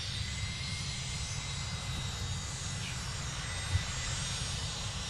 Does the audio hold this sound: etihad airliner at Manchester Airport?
yes